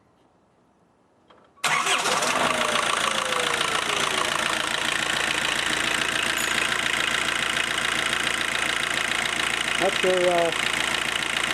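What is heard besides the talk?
Vauxhall Vectra 1.7 turbo diesel engine started and idling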